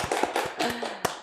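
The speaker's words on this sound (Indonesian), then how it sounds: "Tepuk tangan dulu dong." Scattered hand claps at a university anniversary gathering, a brief uneven patter of a few pairs of hands, fairly faint in a hall.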